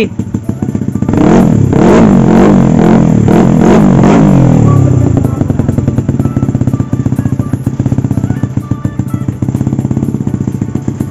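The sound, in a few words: 220cc motorcycle engine running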